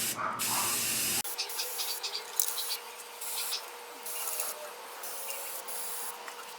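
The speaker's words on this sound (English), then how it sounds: "Spray some in this corner." A steady aerosol hiss of spray paint on a custom Master Sword display pedestal, starting with a short burst then continuing in uneven pulses, close and fairly loud.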